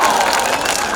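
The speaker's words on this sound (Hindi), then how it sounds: "एक हमारे क्रिकेट खिलाड़ी के लिए जोरदार ताली हो जाए भैया।" Loud crowd applause and cheering from a large outdoor political rally audience, a dense continuous wash of clapping and voices lasting about a second.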